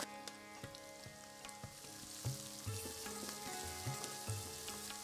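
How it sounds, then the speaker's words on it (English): Ginger and garlic fry with golden onions in a pan for a potato, chickpea and spinach curry, giving a steady soft sizzle with scattered crackles and a few stirring clinks, faint and close. "Now I'm just going to add in the ginger and garlic and give it a couple of minutes to cook"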